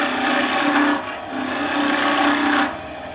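A skew chisel smooths a spinning wood workpiece on a lathe, producing a loud, close, hissing scrape that swells and eases in two or three passes.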